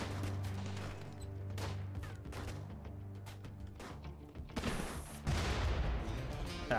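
Turrets fire on raiders in modded RimWorld, a run of close rapid gunshot cracks and thumps that grows into a louder, denser burst of fire toward the end.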